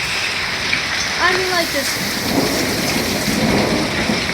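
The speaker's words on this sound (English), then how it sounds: "It's raining. Look at that." Steady rain falling outdoors with thunder rumbling underneath, a continuous hiss throughout while a person speaks briefly over it.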